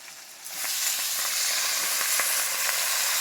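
Spinach drops into a pan of hot oil with egg and fat. The sizzle flares up suddenly after a quiet moment and settles into a loud, steady crackle with scattered pops.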